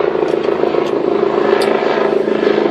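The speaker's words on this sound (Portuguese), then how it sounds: "Que passa de helicóptero aqui, essa hora não é brincadeira não" A helicopter passes over a city on a Friday, a steady droning rotor and engine hum holding at a constant level throughout, with no voices.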